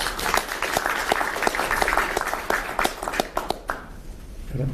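Applause at a Korean political party meeting on price stability as party leader Jang Dong-hyuk is welcomed to speak; sustained clapping from a room of attendees that thins out and fades toward the end.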